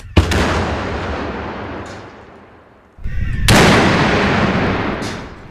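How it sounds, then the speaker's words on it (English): A bomb blast in a crowd simulation erupts as a loud, sudden broadband burst with a long rumbling decay, followed seconds later by a second powerful detonation that also rolls away slowly. "The explosion is catastrophic."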